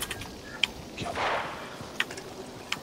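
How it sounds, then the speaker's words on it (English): Sharp gunshots crack at scattered intervals as video game players shoot at a llama, a few distinct reports over a faint background with a brief whooshing swell in the middle. "Yeah, they're shooting the llama."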